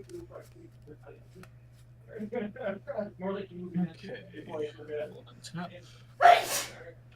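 A sharp, loud sneeze near the end of a stretch of conversation at a Commander card game night, people chatting around the table just before it.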